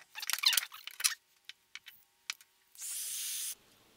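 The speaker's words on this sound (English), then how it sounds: "battery cable is out. It's pretty long. And we only really need to cut it, like right there." A battery cable is cut with a few short, sharp snips and clicks spaced apart, followed by a brief steady rasp, all close and fairly quiet against near silence.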